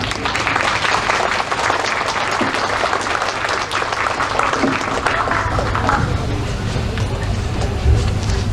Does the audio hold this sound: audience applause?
yes